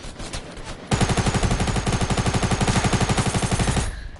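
Rapid gunfire in Fortnite: a loud, fast stream of evenly spaced shots that starts abruptly and runs for about three seconds before cutting off, with a short burst of noise just before it.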